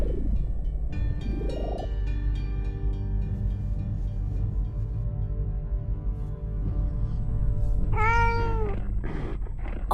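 A cat in The Incredible Adventures of Van Helsing III video game gives a single clear meow near the end, set over a continuous droning game background with no speech.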